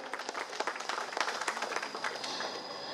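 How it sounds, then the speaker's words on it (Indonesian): A hall audience at the FTUI 58th anniversary ceremony bursts into dense, steady applause, many hands clapping at once for about three seconds with no voice over it. "Boleh tepuk tangan yang paling meriah hadirin sekalian"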